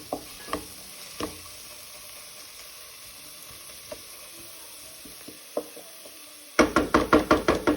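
Garlic, ginger, green chilies and onions sauté on a medium flame with a soft, continuous sizzle, scattered spoon knocks against the pan, and a closing burst of rhythmic scraping strokes.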